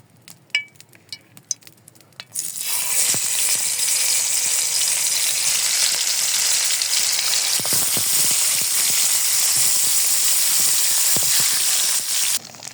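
Koi fish coated in turmeric and salt fries in oil with a loud, dense, continuous sizzle, preceded by a few light clinks of utensils before the frying starts.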